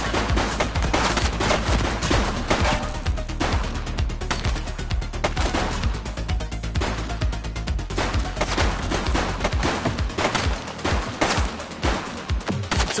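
Heavy, continuous gunfire in the police game The Precinct, overlapping bursts and single shots hammering loud and close for the whole stretch with no pause.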